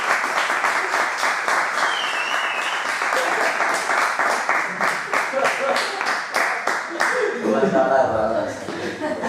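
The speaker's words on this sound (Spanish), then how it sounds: "ahora sí los aplausos violentos para este profesor" Sustained applause with claps and some chuckling from a Spanish-speaking audience honoring a professor at the close of a film-forum talk, steady and moderately loud for about nine seconds, with voices and laughter rising near the end.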